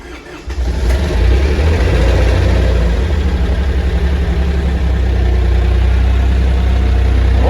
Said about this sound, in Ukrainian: як бачимо, завівся з півоберта, фактично, то без свічок